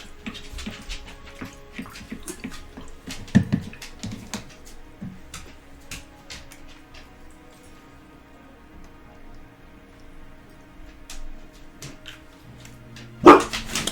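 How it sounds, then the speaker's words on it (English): A dog barks in scattered short bursts at a distance over a low background, with one louder bark near the end. "No, Misa want to yell at people that aren't here"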